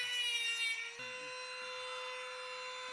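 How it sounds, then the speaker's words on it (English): Small Harbor Freight hand grinder running with a steady high whine, close and fairly loud, its pitch dropping slightly partway through as it loads up, with faint clatter underneath. "So I like this little grinder we put together."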